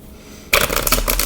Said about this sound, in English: I've shuffled enough, or probably I just need to shuffle much more